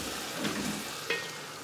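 Masala paste fries and sizzles in a pan for paneer butter masala, a steady close crackle with a couple of brief scraping stir sounds.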